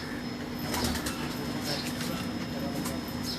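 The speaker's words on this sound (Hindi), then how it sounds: "ये सारे दुमचीर कबूतर हैं" Dumchir pigeons coo on a rooftop loft, soft repeated calls rising over a constant outdoor hiss, with faint voices and distant traffic in the background.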